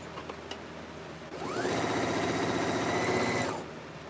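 A sewing machine set to zero tension starts up after a few faint clicks and runs steadily for about two seconds at a fast, even stitching rhythm, then stops.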